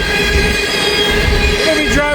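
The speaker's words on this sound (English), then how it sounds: "First train we get up is the grain train." A grain freight train rolls past on a snowy day, a loud steady rumble of wagons with metallic wheel squeal and ringing tones continuing throughout.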